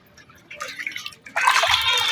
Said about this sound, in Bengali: মাংসটা হচ্ছে এখানে ধুয়ে ফেলছি, ধুয়ে সুন্দর করে ঝাঁকার মধ্যে করছি